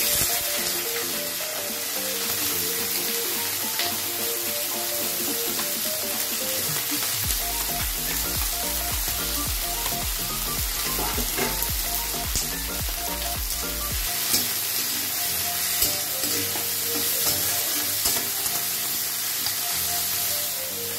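Potato, onion and eggplant fry in hot oil with nigella seeds and mustard in a pan, a loud continuous close sizzle with stirring clatter and a low hum through the middle stretch, no talking.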